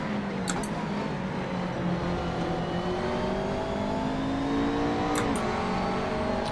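Mercedes race car engine in Assetto Corsa racing sim, a steady sustained roar with rising gear-shifting tones and brief upshift blips, loud and continuous with no talk.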